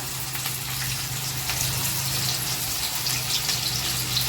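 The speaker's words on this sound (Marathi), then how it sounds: "तर तेल तापलंय आता ह्याच्यामध्ये मम्मी टाकते बारीक चिरलेला कांदा" Finely chopped onion sizzles in hot oil for a Kolhapuri tambda-pandhra rassa, a steady bright hiss with a low hum underneath, close and even throughout, with no talk over it.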